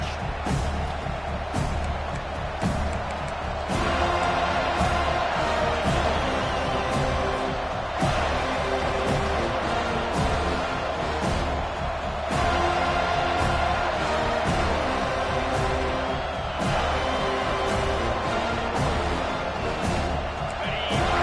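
Stadium crowd in a college football video game, a steady loud roar filling the background around the opening kickoff, with music or in-game commentary layered over it.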